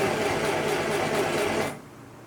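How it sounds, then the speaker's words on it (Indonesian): A sewing machine runs steadily while stitching fabric back and forth on a pair of short pants, a close, continuous whirring hum that stops abruptly near the end, with no talking. "Kita jahit bolak-balik kayak tadi ya."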